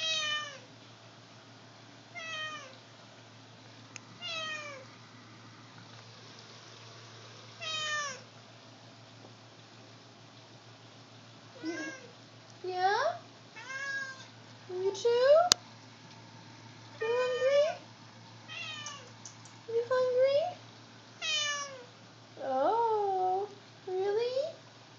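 A hungry cat meows repeatedly, with short plaintive calls coming every second or two and growing louder and more insistent toward the end, close by in a quiet room with a low steady hum underneath.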